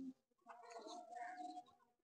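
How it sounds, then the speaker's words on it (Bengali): Pigeons coo from a coop at a village home in rural Bangladesh, a soft, low, rolling call lasting over a second, heard faintly and alone. "এদিকে আবার কবুতরের ঘর আছে, এই যে কবুতর।"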